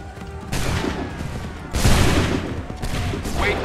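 Soldiers fire a musket volley in Assassin's Creed III, a loud crackling fusillade that erupts near the start, swells into a second heavier burst midway and rolls on with further rattling shots, with faint voices.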